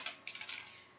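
Quick bursts of keystrokes on a computer keyboard while writing Python code, a few close, crisp taps bunched in the first half and then a quiet tail.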